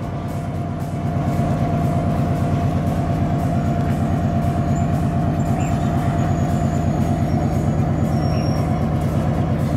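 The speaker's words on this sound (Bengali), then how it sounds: "এই ট্রেনটা এখানে 10 মিনিট থামবে।" A train rumbles steadily nearby at the Nine Arch Bridge near Ella, Sri Lanka, a low rhythmic clatter of wheels and a droning engine that swells after the first second and holds.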